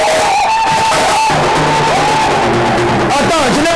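A church congregation cheers and acclaims, a loud sustained crowd roar of shouts and whoops with voices rising and falling throughout, mixed with talk.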